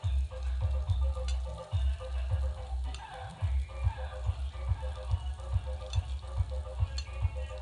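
Ground spices including turmeric, cumin, coriander, black pepper and chilli powder sizzle in a pan for an orange juice chicken recipe, with close, rhythmic scraping and tapping of a spoon stirring steadily over a soft frying hiss.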